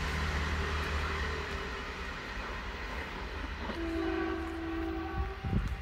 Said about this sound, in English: And nice horn for a whistle board as well!